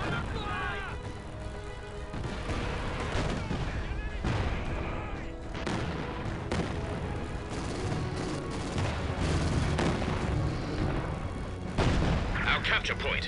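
Katyusha rocket artillery firing in Company of Heroes 2, a dense, continuous wash of booms, gunfire and launch blasts layered over constant battlefield din, with voices mixed into the chaos.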